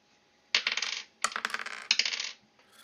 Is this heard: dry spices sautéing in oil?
no